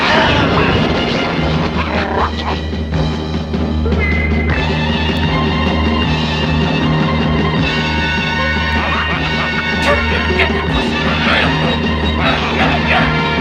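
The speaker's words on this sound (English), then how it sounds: "Cat dog fight!" A cartoon cat and dog squabble noisily, with repeated yapping barks and whimpers over a busy, loud music bed from a 1970s animated film.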